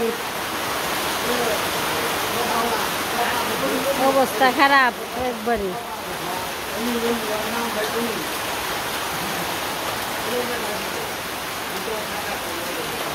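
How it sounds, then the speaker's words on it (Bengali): Heavy rain pours down in a dense, continuous roar that hardly changes, with a person talking briefly partway through. "কি পরিমাণ বৃষ্টি দেখেন এত বৃষ্টি বাবা রে বৃষ্টি"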